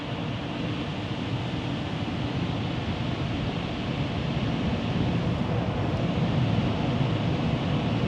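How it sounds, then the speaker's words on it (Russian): Powerful turbo dryer jets blasting air over a car at a Portal robotic car wash, a steady loud broadband roar with no break. "О, и пошла турбосушка."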